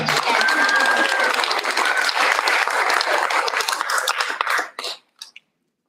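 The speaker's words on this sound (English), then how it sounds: "Let's have another round of applause for John." A crowd at a school board meeting claps steadily for several seconds, then the applause thins out and ends with a few scattered final claps.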